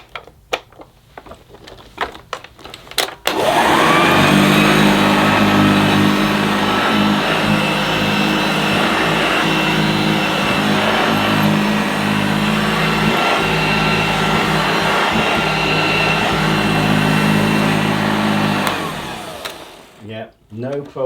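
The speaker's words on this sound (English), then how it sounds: "I'm sure my Hoover Junior Dirt Searcher will also be fine." A Hoover Junior Dirt Searcher vacuum cleaner running on carpet, starting abruptly after a few seconds of clicks and handling noise, holding a loud steady motor whine for about fifteen seconds, then winding down.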